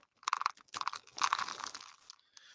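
Close, loud crunching of peanut butter crunch cereal, a sweetened corn and oat cereal, in several quick bursts of chewing with short pauses between.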